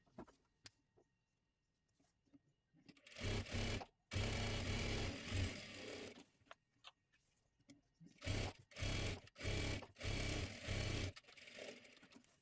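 A sewing machine stitching a blouse runs in loud whirring bursts, one long run of a few seconds, then several shorter start-stop runs, with quiet handling noises between them.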